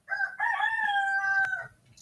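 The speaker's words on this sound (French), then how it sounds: "le coq aussi, hein, vous avez entendu" A rooster crows once, a single loud, drawn-out cock-a-doodle-doo lasting about a second and a half, close by and alone without talk.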